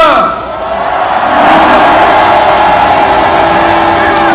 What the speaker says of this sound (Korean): 경례의 박수 한번 부탁드립니다.